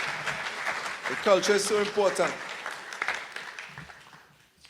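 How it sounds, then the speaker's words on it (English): An audience claps at a memorial lecture launch event after a poem, the applause running under a man's speech and fading toward the end. "Let's give him another round of applause, folks."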